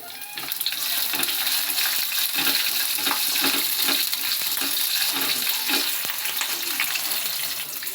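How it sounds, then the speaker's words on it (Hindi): Three slit green chillies fry in hot oil with cumin, garlic and curry leaves for jeera aloo, making a continuous close sizzle with bursts of spitting and crackling and some faint stirring clatter. "उसके बाद जाएगा 3 हरी मिर्चें चीर के डाली मैंने"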